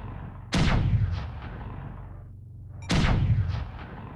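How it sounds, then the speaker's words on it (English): In a mech combat video game, an artillery strike lands as two heavy booming blasts about two seconds apart, each with a sharp loud onset followed by a rumbling decay, and no voices over them. "Artillery strike activated."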